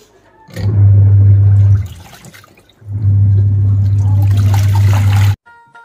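Water rushing loudly into a washing machine drum in a village home in the Andaman Islands, two steady sustained bursts separated by a brief pause, close and with no speech.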